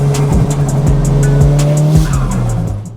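A Nissan Silvia S15 runs along twisty mountain roads with its engine droning loud and close, tires squealing through corners as the revs rise and fall over a few seconds.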